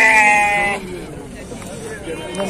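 A sheep or lamb gives a loud, close, wavering bleat at a crowded livestock market, followed by a busy background of voices and animal noise.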